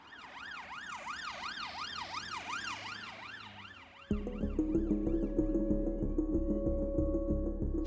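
An ambulance siren wailing up and down in smooth repeated sweeps, moderately distant, then switching to a faster, harsher yelp pattern with a loud low rumble of the vehicle passing close by.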